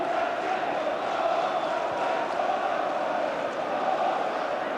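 Football crowd at Highbury during an FA Cup quarter-final, Arsenal against Chelsea, a steady, dense roar of massed voices filling the stadium at moderate distance without a break.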